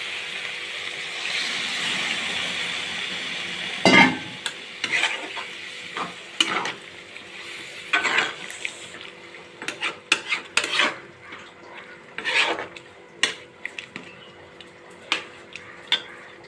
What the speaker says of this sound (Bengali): ভালো করে আমার বাঁধাকপিটা ভাজা হয়ে গেছে, দেখো তেল ছেড়ে গেছে।